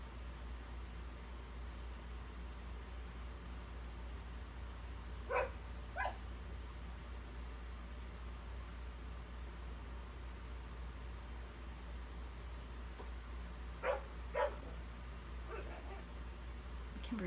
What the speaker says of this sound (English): barking at something